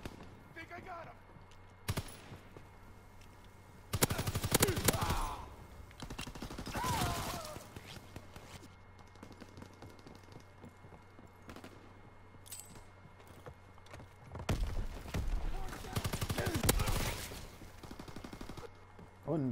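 Bursts of Volkssturmgewehr assault rifle fire in the World War II shooter game Call of Duty: WWII, loud cracking volleys in separate clusters with quieter game noise between them.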